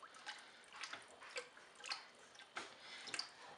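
Raw milk being poured into a soap mixture, a series of soft irregular splashes and gurgles close by, each burst brief and separated by short pauses.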